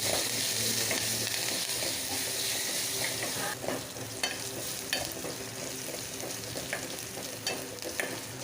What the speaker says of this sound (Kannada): ಬರೀ ಕೆಂಪಗಾಗ್ಯದ ಒಗ್ಗರಣೆ ಹಾಕೊಳ್ಳೋಣಂತ್ರಿ